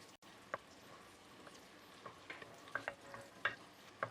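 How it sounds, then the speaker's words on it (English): Spices and aromatics, including seeds, gently frying in warming oil in a pan for a jeera chicken, giving a soft steady sizzle with scattered small pops and crackles throughout, no talking. "So let's leave this here so it can fry up a bit. And all the aromatics would infuse that oil."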